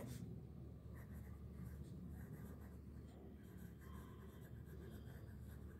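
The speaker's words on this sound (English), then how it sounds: "So let us write it here." Pen or chalk writing out a sentence during a class lesson, a steady continuous scratching and rubbing that runs close and fairly quiet for the whole stretch, with no talking.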